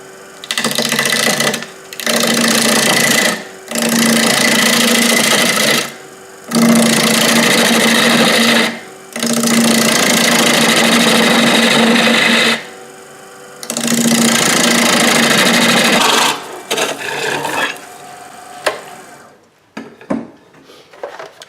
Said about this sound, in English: I'm just going to keep hollowing this out. I think I'm going to try doing it with the bowl gouge.